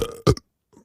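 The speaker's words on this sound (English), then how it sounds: "did you just burp?" A speaking voice in a cartoon classroom is cut off by a short, loud burp, followed by a faint trailing sound.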